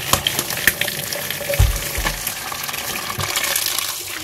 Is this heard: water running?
yes